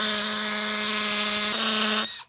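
A loud, steady high-pitched hammer drill whine holds for about two seconds while drilling into concrete, shifts pitch briefly, then cuts off.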